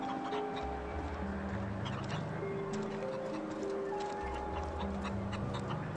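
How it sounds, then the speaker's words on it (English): Chickens in the video game The Outer Worlds, at Roseway: short clucking calls repeat over a steady background of game music. "Hey, there's a chicken over here."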